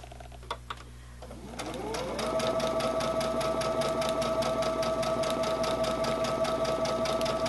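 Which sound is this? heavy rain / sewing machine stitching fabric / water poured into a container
sewing machine stitching fabric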